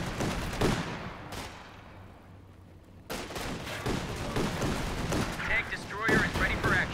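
Tank cannon and gun fire in a competitive online tank video game, with a sharp shot followed by a long decaying boom, then further shots and rumbling battle noise later.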